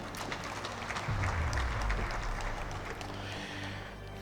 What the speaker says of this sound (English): If you want to clap for her, please clap for her.